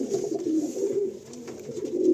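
A young, newly paired red breeder pigeon couple coos steadily, the low rolling calls close and continuous with no other sounds.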